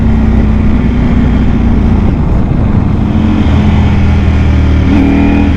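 A Ducati Panigale V4 motorcycle engine roars loudly and continuously while riding, a close, steady high-revving drone with a brief pitch shift near the end, no speech.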